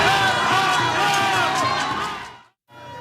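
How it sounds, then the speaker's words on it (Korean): A large crowd of supporters outside a detention center roars and cheers loudly in a sustained swell that cuts off briefly near the end before resuming. "지지자들의 함성이 커집니다."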